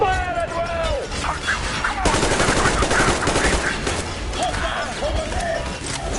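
Sustained gunfire in a PS4 shooter game: rapid machine-gun bursts and overlapping shots run continuously, loud and close, while game voices shout over the din.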